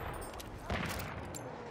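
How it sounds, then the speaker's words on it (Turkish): Enemy machine gun in Battlefield 1 rattles as a dense burst of rapid gunfire inside a noisy battle scene, with a faint voice in the mix. "Düşman makinalı tüfeği."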